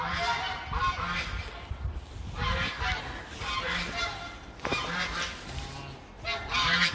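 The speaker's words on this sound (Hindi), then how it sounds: "वो वाले डक्स देखें पीछे, ब्लैक वाले और ग्रीन उनके ऊपर।" Waterfowl call repeatedly outdoors, loud honking and quacking in overlapping bursts from several birds nearby, with a faint voice briefly underneath.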